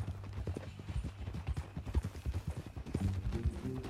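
Rhythmic clip-clop of horse hooves trotting at a steady pace in Red Dead Redemption 2, fairly close, with a faint whinny-like sound toward the end.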